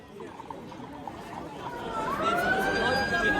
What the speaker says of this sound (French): la sirène est en train de retentir ici en Arles